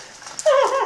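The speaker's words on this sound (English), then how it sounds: "Good dog." A dog whimpers in deep blizzard snow, first softly and then in a louder, rising, drawn-out whine close by.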